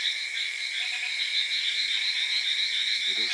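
Frogs croak at night on open land, a dense, steady chorus of overlapping calls that holds continuously throughout with no voices.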